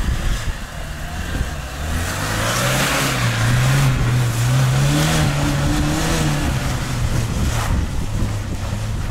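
A Ford Ranger pickup on studded winter tyres drives and revs on slippery icy ground, its engine note rising and falling steadily under heavy wind and road roar, loud and close throughout.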